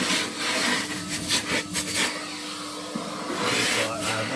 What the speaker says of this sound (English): I'm going to hoover the top underneath this time